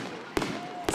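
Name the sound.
fireworks going off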